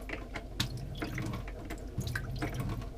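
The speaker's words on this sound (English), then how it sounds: "I'm trying to empty the water tank." Water drains from a sailboat's onboard water tank, a steady trickling splash with small drips and gurgles, close and fairly quiet, with no talk.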